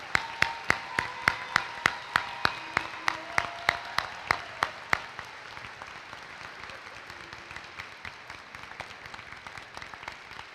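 Audience applause at the 2025 CPHS graduation ceremony, opening with a run of sharp, evenly spaced claps for about five seconds before fading into a softer, scattered crowd patter.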